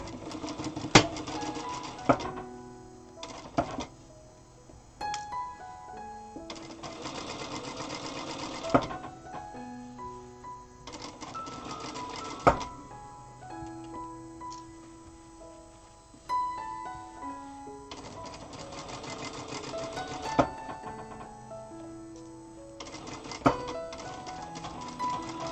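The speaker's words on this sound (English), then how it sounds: "I pin it with a couple of pins and then I sew it." A Zoje ZJ9703AR-D4J/02 industrial sewing machine stitches seams on a small doll sleeper, running in repeated bursts of rapid, even chatter with brief pauses and clicks between runs, close and clear with no talking.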